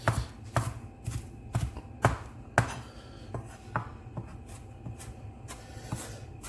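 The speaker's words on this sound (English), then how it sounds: "And then finally chop it" A knife chops food on a cutting board in a quick, uneven series of sharp close knocks, roughly two per second.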